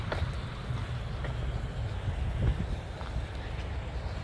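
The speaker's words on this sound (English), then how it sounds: "It's so windy." Wind blowing hard outdoors around potted plants and cacti, a steady broadband rumble and buffeting on the microphone that runs throughout at a constant loud level.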